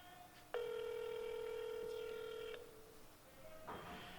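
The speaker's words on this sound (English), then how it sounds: "now I can hear Katie's phone ringing" A single electronic ringback tone sounds steadily for about two seconds over a quiet IP phone line, followed by faint noise.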